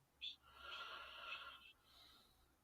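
Heavy, wheezy breathing drawn in long raspy pulls, quiet and close, with a short sharp snort at the start and a second softer breath near the end.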